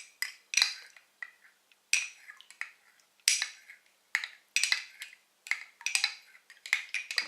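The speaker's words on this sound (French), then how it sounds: "on va venir plonger la levure dans l'eau tiède et on va mélanger afin de diluer l'ensemble" Yeast being stirred into lukewarm water in a bowl for pizza dough, close-up clinking and scraping strokes of a utensil against the container in irregular bursts, with no talk.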